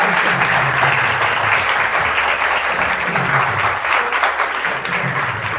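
Sustained applause from a studio audience on a morning talk show, dense and steady clapping filling the whole stretch without pause, loud and close.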